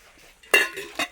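A ladle and the lid of a roughly four-litre serving dish handled, giving two or three short clinks and knocks close by, with a faint ringing after the first.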